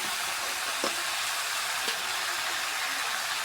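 Braised meat added to a hot pan, frying and being stirred: a steady, loud sizzle fills the whole stretch, with a couple of brief scraping knocks from a spoon against the pan.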